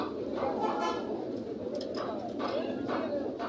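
Many pigeons coo at a busy pigeon market, a steady low murmur of overlapping cooing over constant crowd noise and indistinct voices.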